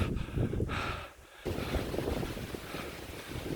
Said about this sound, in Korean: 여러분들 바람 소리 들리시죠?